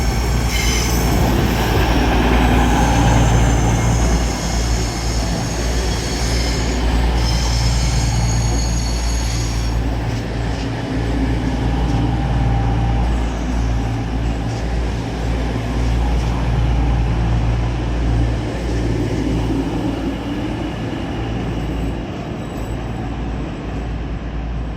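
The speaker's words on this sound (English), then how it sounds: "train arriving is going to be a EMR Class 222 Meridian" An EMR Class 222 Meridian diesel train pulls into London St Pancras, with a steady loud engine rumble, rolling wheel noise and some squealing, staying close throughout.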